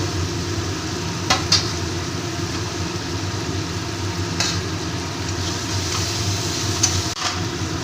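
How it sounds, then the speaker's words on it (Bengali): Fried potatoes being sautéed in a yogurt spice masala in a pan for an egg curry, a steady loud sizzle and hiss with a few sharp spatula clinks scattered throughout, close by and with no voices. "এবার আমি ভেজে রাখা আলুগুলোকে দিয়ে আবার একটু কষিয়ে নেব"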